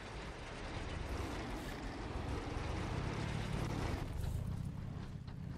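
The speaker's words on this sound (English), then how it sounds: "Let's turn on the engine. Let's go forward." A vehicle engine runs steadily in the sandbox building game Scrap Mechanic, a constant low mechanical drone with a windy, hissing top that continues without a break and shifts slightly in tone near the end.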